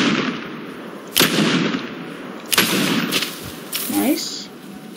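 Night Hawk revolver firing in Fortnite: several loud, separate sharp shots spaced about a second apart, each with a short ringing tail, over steady game background noise.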